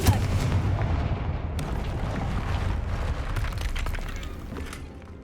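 A Confringo fire spell blasting in Hogwarts Legacy: a heavy, dense explosive roar with booming low rumble that surges at the start and keeps rolling for several seconds, loud and close, no talking.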